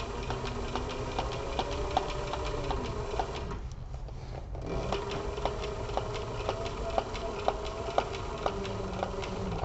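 A sewing machine stitches a straight seam on a toiletry kit with a fast, even mechanical ticking. The stitching pauses briefly midway, then resumes close and clear.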